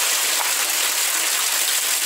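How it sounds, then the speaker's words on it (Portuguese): Heavy rain falling steadily, with water gushing from roof gutters, a loud, dense, continuous roar close by with no pauses. "aqui tá chovendo, ó, chuva. Chuva pra lá também, ó, muita água caindo nas bicas."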